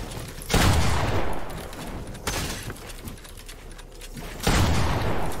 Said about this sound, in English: I'm shooting right now.